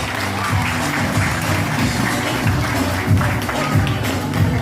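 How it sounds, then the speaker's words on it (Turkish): A crowd at a Turkish wedding event claps for the bride and groom: a dense, continuous roar of many hands, loud and sustained throughout, with a faint murmur of voices mixed in. "Alkışlarımızı gelin ve damadımıza duyurabilir miyiz?"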